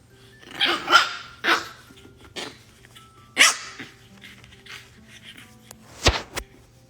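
A young puppy barks in short separate yips and woofs, some close and loud, others softer, spread irregularly across a quiet indoor setting with no talk.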